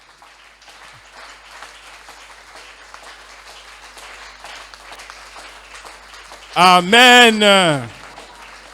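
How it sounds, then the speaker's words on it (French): A church congregation claps and cheers at a moderate level, with a loud voice calling out over the crowd near the end. "Est-ce que maintenant tu peux acclamer très fort pour le Seigneur?"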